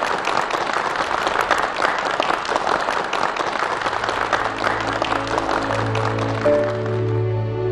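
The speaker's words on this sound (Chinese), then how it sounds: "来，掌声欢迎。" A hall audience applauds steadily to welcome 93-year-old conductor Zheng Xiaoying, dense clapping that fades toward the end as music with sustained tones rises underneath.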